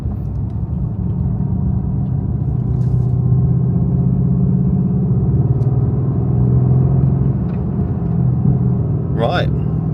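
A V8 supercar fitted with carbon ceramic brakes gives off a deep, steady engine rumble that holds through the whole stretch, close and loud, with a brief higher sound near the end.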